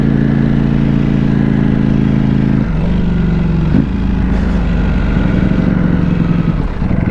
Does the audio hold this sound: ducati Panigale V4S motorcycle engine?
yes